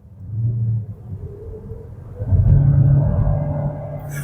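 A 2026 MG HS Hybrid Plus pulls away under acceleration, a low rumbling drone heard from inside that grows louder and fuller midway, with no talk over it.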